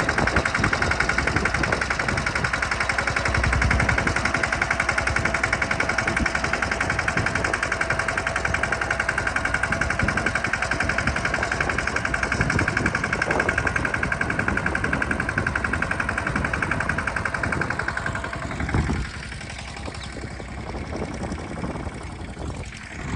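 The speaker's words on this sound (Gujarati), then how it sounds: "પપ્પા જો ઝીણકું ટ્રેક્ટર લઈને આવે" A small tractor engine running steadily at a farm field during sowing, a loud continuous rattling chug close by for most of the stretch, then dropping to a quieter, softer running sound near the end.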